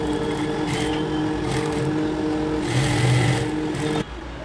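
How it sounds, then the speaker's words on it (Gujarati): Electric sewing machine running steadily as it stitches around all four sides of a small fabric mobile pouch with cord edging, a continuous close mechanical whir that stops abruptly near the end. "બીજી સાઈડ પણ દોરી સેટ કરી અને ચારે બાજુથી સિલાઈ મારી દેશું"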